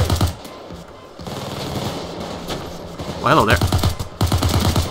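A machine gun in the video game PayDay 2, styled after Tony Montana's weapon, fires in rapid bursts, loud and close, with a brief spoken greeting in between.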